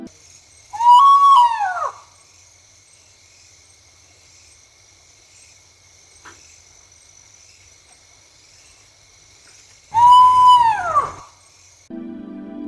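Two separate calls of a spot-bellied eagle owl (Ketupa nepalensis) sound about nine seconds apart, each a short, falling, tonal cry, over a continuous thin buzz of night insects in a quiet jungle setting.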